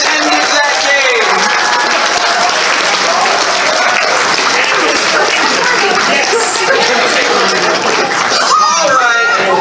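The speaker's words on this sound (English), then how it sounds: "Give him a round of applause." Audience applause at a charity improv comedy show, steady loud clapping from a crowd throughout, with scattered cheers and chuckles mixed in.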